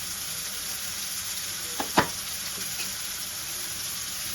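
Mutton kheema fried rice sizzling steadily in a pan, with a couple of soft scraping clinks from mixing partway through.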